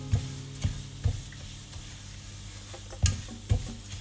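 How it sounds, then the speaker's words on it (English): A spoon scrapes and knocks against a pan as semolina and almond halwa roasts, with a few distinct stirring thumps spaced out over a soft background, close and fairly quiet. "Need to keep stirring it,"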